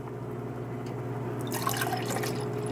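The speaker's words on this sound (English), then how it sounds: "I'm gonna sip on a little bit of Minute Maid fruit punch" Minute Maid fruit punch is poured into a cup, a soft liquid trickle and splash rising over a low steady background hum, fairly quiet and close.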